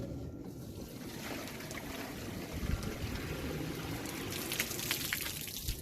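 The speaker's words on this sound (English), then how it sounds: "And then as I fill it full of water," Water is poured into a container holding upright yucca cuttings trimmed for propagation, a steady close splashing and gurgling fill that continues for several seconds with a faint rise toward the end.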